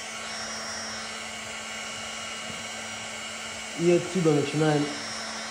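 A heat gun blows steadily while warming vinyl wrap film on the fin of a Toyota Camry 70, a constant whirring hiss running throughout with a brief spoken phrase near the end.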